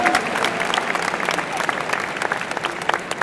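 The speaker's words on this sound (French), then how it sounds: "On peut applaudir une fois de plus Katharina Royo-Manguer" Crowd applauding a cosplay contestant at an e-sport convention costume contest, a loud burst of many hands clapping with scattered sharper claps and faint voices mixed into the steady ovation.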